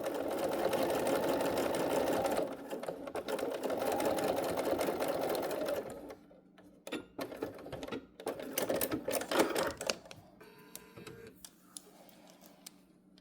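A sewing machine does top stitching with a freshly changed thread, running in a dense, steady close-up whir for several seconds, then breaking into scattered clicks and short taps as it slows and stops.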